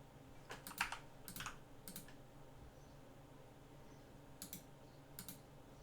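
Bursts of keystrokes on a computer keyboard while coding a tab control, clustered in short clicky runs with pauses between, fairly quiet over a faint low room hum.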